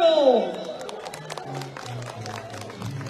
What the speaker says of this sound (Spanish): El aplauso fuerte para los padres de Santiago.